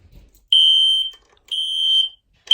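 A SpectrAlert Classic fire alarm sounds with loud, piercing electronic beeps, two long tones separated by short gaps, with a third beginning as the sound cuts off.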